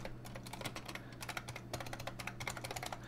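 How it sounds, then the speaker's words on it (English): Rapid, loud clacking of keys on an old IBM Model M buckling-spring keyboard, a dense irregular stream of close-up keystrokes over a steady low electrical hum, with no voices. "I have an old IBM Model M keyboard, so it's loud."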